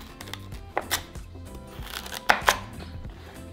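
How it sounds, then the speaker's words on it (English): A knife chops peeled carrots and potatoes into small pieces on a board. The cuts come as a few sharp, close knocks in two quick clusters, with quiet pauses between them. "And I also peeled my carrots. So I'm just going to cut them into small pieces"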